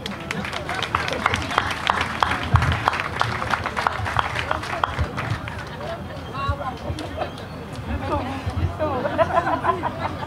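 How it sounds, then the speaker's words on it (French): A crowd at an award ceremony claps for the third prize winner, Koumba Thiam. Scattered, busy applause mixes with chatter and shouts, and people talk over the clapping as it gradually thins out. "Plein d'applaudissements pour Koumba Thiam"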